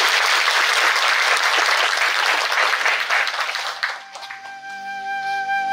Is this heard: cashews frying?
no